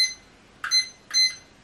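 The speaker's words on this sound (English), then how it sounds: "Start my timer." Kitchen timer starting during cake baking, giving two short high beeps about half a second apart, close and clear with no talk.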